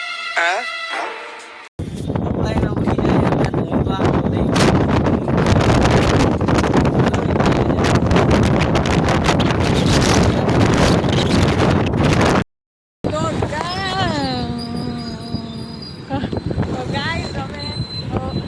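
Strong storm wind roars and buffets the microphone for several seconds, with voices heard briefly before and after the gusts.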